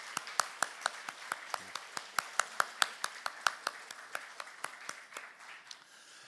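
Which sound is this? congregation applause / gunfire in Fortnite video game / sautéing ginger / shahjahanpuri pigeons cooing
congregation applause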